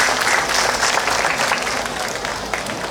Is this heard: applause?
yes